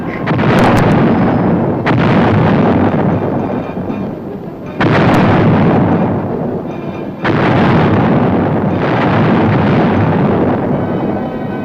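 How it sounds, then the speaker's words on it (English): Self-propelled 105mm howitzers of an armored cavalry unit fire repeatedly, each heavy boom followed by a long rolling rumble, with about four blasts spread over the stretch and no voices. "the 11th Armored Cavalry Regiment was equipped with self-propelled 105mm howitzers"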